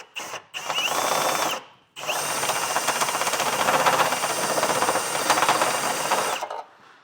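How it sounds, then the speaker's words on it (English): A step bit drill bores an access hole through metal on a 2024 Chevrolet Equinox for a hitch mount, two sustained whirring, grinding bursts close by, with a brief pause between them. "Take a step bit drill and we're going to open up the access hole"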